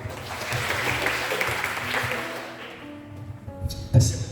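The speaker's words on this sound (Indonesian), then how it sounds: "sekali lagi tepuk tangannya dong buat kelompok 7" Applause from a group of students at an online student association session, dense clapping for the first half under some background talk and tones, then thinning out near the end.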